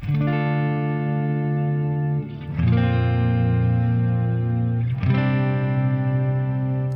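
Sustained electric guitar notes through a reverb pedal on a dark setting, a lush reverb wash, changing pitch twice, ringing smoothly and continuously with no gaps.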